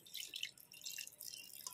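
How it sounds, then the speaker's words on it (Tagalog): Water is poured into a pot of Filipino paksiw, a faint close trickle and splash lasting under two seconds, with no talking. "So, lagyan po natin siya ng tubig."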